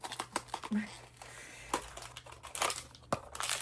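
A blind box package is torn open at close range. Crinkling and ripping noises come in irregular bursts with brief quiet gaps, alongside soft handling sounds.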